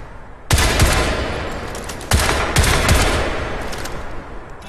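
Gunfire from rapid and semi-auto weapons in the video game Crysis 3: two dense, loud bursts of rapid shots, each starting sharply and rattling on with a few louder cracks, with no talking.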